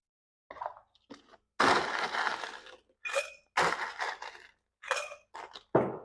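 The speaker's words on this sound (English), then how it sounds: "we are going to fill our mixing glass with ice" Ice cubes tumble into a cocktail mixing glass in several separate clattering scoops, each a sharp close rattle followed by a short pause.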